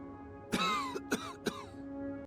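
Three distinct coughs from a character in the video game Oblivion, spaced about half a second apart, close and clear over a steady low background hum, with no talking.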